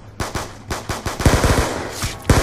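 Rapid Uzi bursts ring out in Call of Duty Black Ops 2 Zombies, Mob of the Dead, as loud, close, stuttering automatic fire in several short strings.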